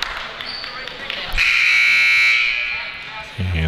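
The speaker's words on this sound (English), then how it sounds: "there's a buzzer signifying that that timeout is done" A loud electronic buzzer sounds on the court at a high school basketball game between Wisconsin Dells and St. Thomas Academy, a single sustained blare of about a second amid gym crowd noise, ending a timeout.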